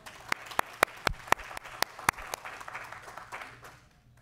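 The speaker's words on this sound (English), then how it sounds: "Can we please give them a round of applause?" Applause at a county elections department meeting after a Scout troop leads the Pledge of Allegiance: a handful of sharp, separate claps ring out over the first two seconds, then thin into softer scattered clapping that trails away.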